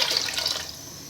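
Water pours into a pot for cooking rice in a home kitchen, a close steady gush that tapers off and softens toward the end, with no talking.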